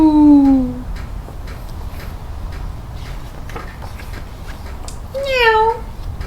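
A storyteller's voice imitates a cat's meow twice, in a children's bilingual farm-animal story, with a low steady hum underneath.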